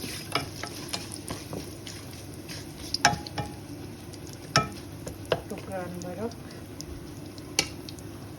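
Whole spices (garam masala, cinnamon, cloves and cardamom) fry in hot oil for chicken pulao, giving a low steady sizzle with scattered sharp stirring clicks and knocks, while a voice talks briefly over it.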